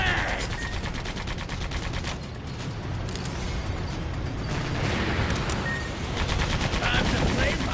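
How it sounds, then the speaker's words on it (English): Sustained machine gun fire in the video game Sandland, rapid repeated shots rattling on for several seconds with booming impacts and mechanical clatter, loud and close. "Shoot him down with the machine gun!"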